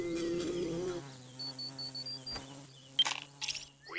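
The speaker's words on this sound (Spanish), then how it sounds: "Esa no es una abeja, es una avispa." A cartoon wasp gives off a faint, thin buzzing drone under soft background music, with a few brief chiming effects near the end.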